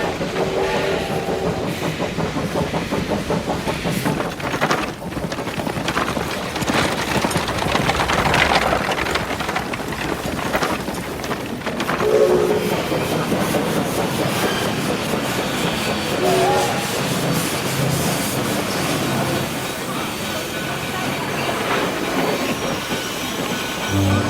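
A train runs along the rails with rhythmic clickety-clack of the wheels and intermittent metallic squeals, rumbling loud and steady for the whole stretch.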